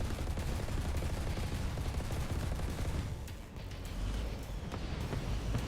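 Dense, loud bursts of gunfire and booming cannon shots from tanks in War Thunder crackle almost nonstop, with a brief dip in intensity midway before the barrage resumes.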